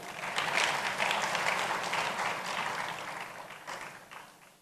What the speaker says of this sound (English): Please let's applaud him again.